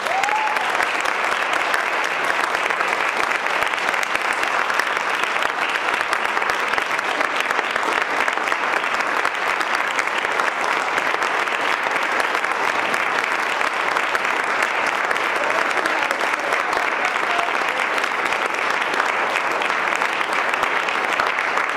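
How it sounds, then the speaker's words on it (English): A church congregation applauds in a dense, even burst of clapping that holds steady and loud for over twenty seconds, with no distinct voices standing out. "would you please give them a round of applause?"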